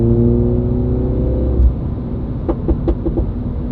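A 2019 MINI John Cooper Works engine with a loud aftermarket Pro exhaust drones loudly and steadily, then drops off into rumbling idle with a few quick popping bursts from the exhaust.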